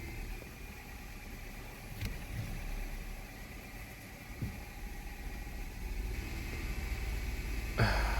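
A Honda Civic engine idles steadily up close with the air conditioning on, its AC compressor the fault behind a no-start condition. The low, even rumble runs throughout with a few faint clicks and knocks.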